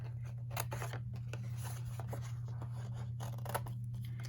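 Close, crisp snips of scissors cutting along paper card for a mixed-media card, several separate cuts spread evenly over a constant low background hum.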